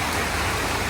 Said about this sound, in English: Just the rain now.